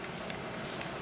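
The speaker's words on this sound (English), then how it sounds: "You want a mist bottle if you're gonna go about it on your own." Mist spray bottle applying a glue and water mix onto model railway layout scenery, giving a close, soft continuous hiss with faint pulses of the pump through about one second.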